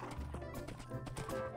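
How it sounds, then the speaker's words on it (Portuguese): Horse hooves clopping in the Minecraft video game, a quick run of steady thuds over a busy game soundtrack with no talking. "o cavalo enganchou"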